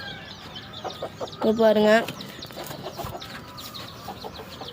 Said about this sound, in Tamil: இது நம்ம சிறுவடை சேவல்.